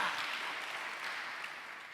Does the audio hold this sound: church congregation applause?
yes